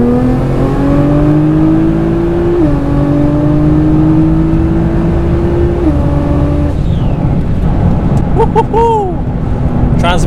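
Nissan GTR engine revving and pulling through gears on 99-octane fuel, a steady loud drone stepping up in pitch with shift breaks, close and continuous, with brief higher whines near the end.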